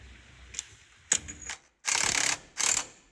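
An impact wrench tightens a hub nut on a K20 truck in two loud, buzzing bursts near the end, after a few short mechanical clicks and rattles.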